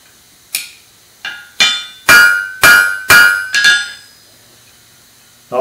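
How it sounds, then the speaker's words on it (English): A ball peen hammer strikes a hot rivet on blacksmith tongs: seven sharp metallic blows, spaced about half a second apart at first and then in a quicker run of ringing hits, close and loud. "I'll heat the rivet up and use my ball peen hammer to do the actual riveting."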